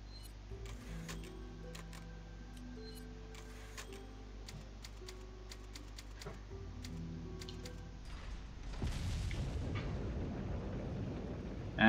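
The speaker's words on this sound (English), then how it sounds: "that was pretty much the explosion of Krauser" A video game explosion from Resident Evil 4, the blast of the boss Krauser, comes as a sudden loud, broad rumble that swells near the end after quieter electronic game tones and clicks.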